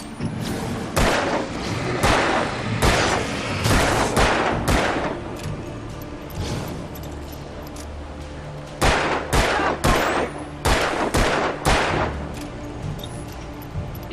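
Gunfire in the video game Alan Wake, with repeated loud sharp shots in clusters, some rapid bursts and some single cracks, separated by brief pauses, with no talking.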